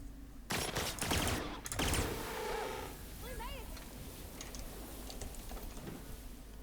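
Bursts of gunfire from The Outer Worlds video game, a dense rapid volley in the first two seconds, then quieter clicks and chirpy game effects under a steady background.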